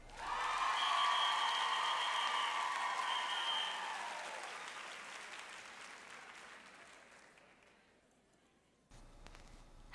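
An audience at a school district convocation applauds Cedar Creek Elementary. The clapping starts loud and dense, then slowly fades away before a brief rustle at the end.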